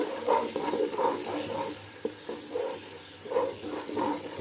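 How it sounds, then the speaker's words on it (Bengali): Ginger garlic paste fries with onions in a pan for beef biryani, a soft sizzle under rhythmic scraping strokes of stirring that come in regular swishes, close but fairly quiet, with no talk. "আদা রসুনের পেস্ট একটু পেঁয়াজের সাথে ভালো করে ভেজে নেব।"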